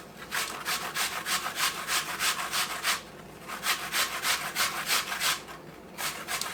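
Apples are grated by hand on a grater for a fresh apple cake: close, rhythmic rasping strokes in a fast, even series, pausing briefly midway before resuming, with no talk.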